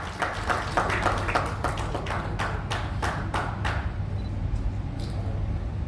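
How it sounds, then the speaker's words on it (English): Audience applause at a port authority agreement signing ceremony, a burst of dense clapping that fades to scattered claps over several seconds. "A big round of applause"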